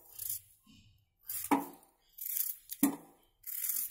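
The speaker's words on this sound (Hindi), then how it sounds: "हम इसे इस तरह से कट कर लेंगे।" A knife slices through soft peeled garadu yam on a board, making several distinct crisp cuts with short pauses between them, close and clear with no talking.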